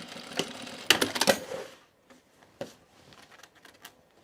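A sewing machine backstitches while a bag is sewn, giving a short burst of quick mechanical clatter and stitching taps, then sparse faint clicks and handling noises as it stops.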